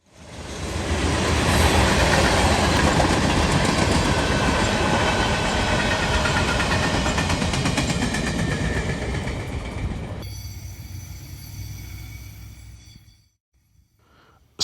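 A train races past at Carlisle, Ohio, a loud, sustained roar of wheels and rolling stock with clickety-clack over the rails, fading sharply near the end into quiet.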